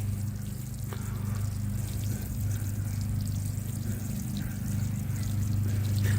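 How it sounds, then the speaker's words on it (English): Water soaking the soil around newly planted tomatoes in a garden bed, a steady soft trickle and pour that runs close by and continuously, with a low constant hum underneath and no talking. "And now I'm going to water this in, give it a good soaking."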